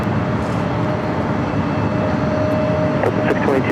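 A Delta Boeing 767-300ER takes off at LAX, heard as a loud, steady jet roar with a faint whine running through it, under radio-style voices.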